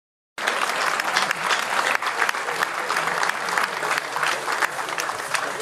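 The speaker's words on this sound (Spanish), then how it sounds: "quiero volver a felicitar un fuerte aplauso para la Sociedad Rural de Corrientes Capital" Applause at a cattle auction for the Sociedad Rural de Corrientes Capital begins abruptly after a brief silence. Steady, moderately loud group clapping continues without a break.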